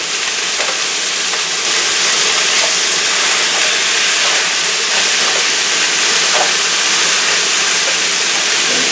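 Food browning in a hot pan gives a steady, loud, close sizzle and hiss throughout, with small pops scattered through it and no talking.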